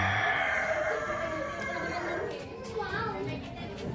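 A rooster crows at a funeral gathering in Deri, North Toraja, a drawn-out call partly masked by children playing and people chattering nearby.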